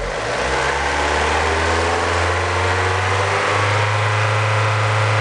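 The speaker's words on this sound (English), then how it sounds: "I'm going to speed the engine up and then add propane" A 1999 Mazda Miata engine runs steadily close by, its low hum rising slightly in pitch as it's sped up, with no talking.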